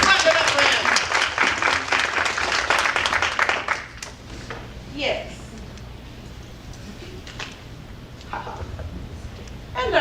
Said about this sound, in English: Let's clap it up for him.